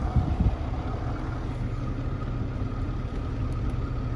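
A Toyota Camry's 3.0 V6 engine idles steadily with a low, smooth hum close to the microphone, and there is a brief bump near the start.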